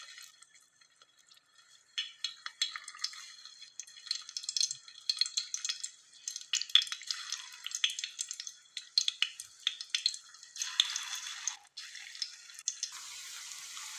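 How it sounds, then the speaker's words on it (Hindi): Aloo besan cutlets frying in hot oil in a saucepan, crackling and spitting with dense, irregular pops, close by and fairly quiet, starting after a brief lull. "कटलेट्स को फ्राई करने के लिए हमने ऑयल डाल दिया है सॉसपैन में"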